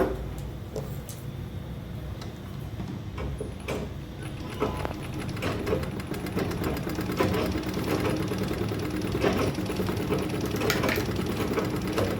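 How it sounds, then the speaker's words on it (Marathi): A sewing machine stitches a small cloth purse with a pocket flap, a steady close whirring with rapid needle clatter running continuously and slightly building in loudness. "आता बघू शकताय मध्ये पण टिप मारते."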